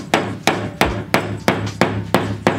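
A hammer strikes a nail eight times in a steady, evenly spaced rhythm, each blow a loud, close, sharp metallic thwack with a brief ring, and no voices.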